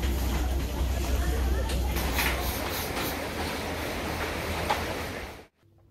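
Steady broadband roar of Iguazu Falls at Devil's Throat on the Iguazu River, a dense, continuous rushing of water that holds constant before cutting off abruptly near the end.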